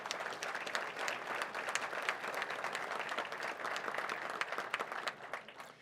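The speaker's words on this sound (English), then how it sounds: "Let's give a round of applause to those that are now not running." Audience applause fills a municipal convention hall (SUMA Convention 2020): dense, steady clapping from a large crowd that holds at an even level for about six seconds without any speech over it.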